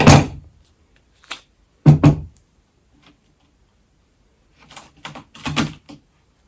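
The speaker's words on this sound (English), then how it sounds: "you're going to cut it with your scissors" Scissors snip through duct tape in a few short, sharp bursts separated by silence, close and alone.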